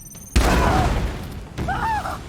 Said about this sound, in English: Grenades for the win.